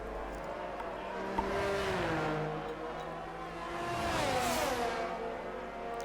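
Several race cars in a racing video game overtake one another on a Japan track, engines droning with rising and falling pitch as they pass close by, swelling twice in loudness, with no talk over them.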